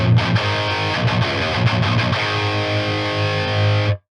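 A heavily distorted electric guitar chugging tight palm-muted metal riffs through a speaker cabinet impulse response, then ringing out on a sustained chord before cutting off abruptly.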